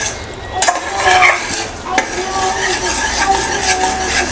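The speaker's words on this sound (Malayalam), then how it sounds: "അപ്പോൾ അത് ഇളക്കിക്കൊണ്ടേ ഇരിക്കണം." A spoon stirs a thickening mixture in a pan that is not non-stick, giving steady scraping and scuffing with a faint sizzle and a few sharp utensil knocks against the metal, close and continuous.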